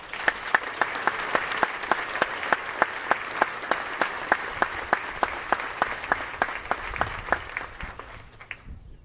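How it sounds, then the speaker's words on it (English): Commencement ceremony audience at Wilbraham & Monson Academy gives a round of applause: steady clapping with a distinct rhythmic beat running through it, as though part of the crowd claps in unison, tapering off near the end. "Let's give them a round of applause."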